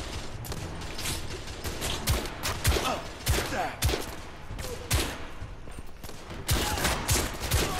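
Gunfire in the video game The Order 1886, with rapid repeated shots cracking out in uneven bursts over a continuous game soundscape.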